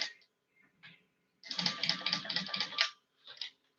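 A sewing machine top stitches a vinyl pouch along a fold in a short, close, rapid run of mechanical stitching, set between brief quieter ticks and pauses.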